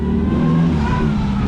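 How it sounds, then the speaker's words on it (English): A Mark II Volkswagen Golf 180 pulls up at a dyno workshop, its engine a steady, fairly loud mid-pitched drone close by with no talk. "tasty little Mark II Golf 180 just turning up"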